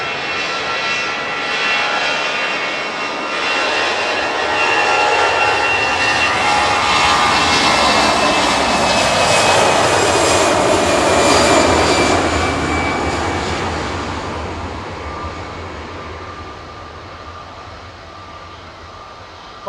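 A jet airliner, an Airbus A320, taking off at Manchester Airport, a loud sustained engine roar that swells and slowly fades as it departs, heard alone with wind across the field.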